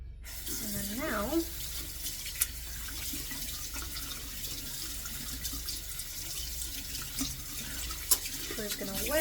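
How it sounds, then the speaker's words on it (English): Tap water runs steadily from a faucet into a sink while hands are wetted during a skincare routine, a continuous close hiss and splash throughout with a few small clinks, and faint speech underneath. "we're just gonna wet our hands."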